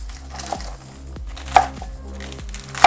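Knife chopping mixed salad vegetables into small pieces on a cutting board, a steady run of sharp rhythmic chops with a couple of louder strikes, close and alone without talk.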